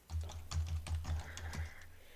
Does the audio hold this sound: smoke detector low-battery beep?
no